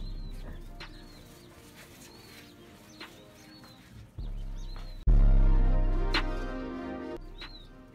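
Tiny freshly hatched quail chicks peeping with high, thin chirps while being moved into a brooder, scattered repeated calls over shifting handling noise that grows louder and more rustling toward the end.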